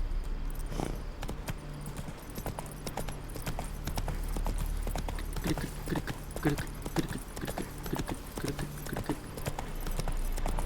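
Hoofbeats of Roach, Geralt's horse in The Witcher III, clip-clop in a steady galloping rhythm throughout, close and fairly loud over continuous game ambience, with brief snorts and no voices.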